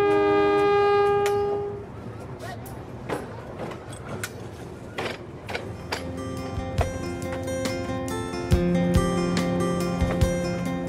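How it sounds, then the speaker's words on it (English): A luxury Rovos Rail passenger train, pulled by a bright red locomotive, runs on old colonial-era track in the Zambian interior. A steady mechanical rumble with sharp clanks and rattles fills the run, with a loud sustained horn-like tone at the start and near the end. "The journey continues as the bright red locomotive pulls the luxury train into the Zambian"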